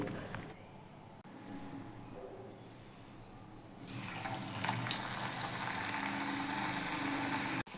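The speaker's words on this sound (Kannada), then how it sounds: "ಎಣ್ಣೆ ಕಾಯ್ದಿದೆ ಅಂತ ಒಂದೊಂದೇ ಒಂದೊಂದೇ ಈ ರೀತಿ ಹಾಕ್ಕೊಂಡೋದೆ" Nippattu, a rice-flour snack, slipped into hot oil and frying, with a steady bubbling hiss that grows louder and fuller midway and holds on close to the end.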